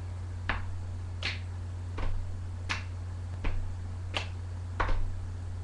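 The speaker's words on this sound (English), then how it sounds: "you're going to bring your hands together to make a clapping noise" Sharp hand claps from a Saman dance, seven distinct claps spaced roughly evenly about every second, close and crisp over a steady low hum, with no talk.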